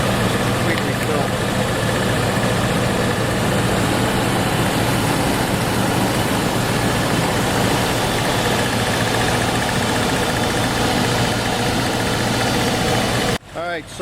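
A 1997 Land Rover Defender 90 engine idles steadily at operating temperature, a loud, even rumble with a low throb that runs nearly the whole time before cutting off abruptly at the end.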